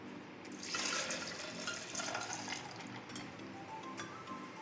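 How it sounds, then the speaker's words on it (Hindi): Milk pours steadily into a blender jar for an Oreo milkshake, a continuous liquid splash and gurgle running close and fairly loud for several seconds with no voices. "अब हम इसमें मिल्क डाल लें।"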